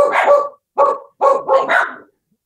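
A dog barks repeatedly up close, four or five sharp barks separated by brief gaps, loud and excited.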